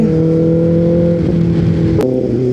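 A car sits in heavy road traffic on the way to Alibag, its engine giving a loud, steady, close droning hum that shifts slightly, with a brief sharp click partway through.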